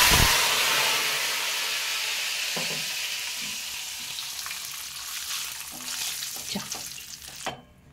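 Raw banana chips frying in hot oil as salt water is added, starting with a loud hissing sizzle that gradually eases, with scattered stirring clatters toward the end.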